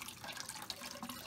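Tap water runs steadily and faintly into a kitchen sink as hard-boiled eggs are peeled under the stream, a continuous soft splashing hiss with no talk.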